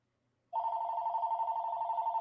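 A telephone breaks a short silence with one steady, loud electronic ring that holds on without a pause to the end, with no voices over it.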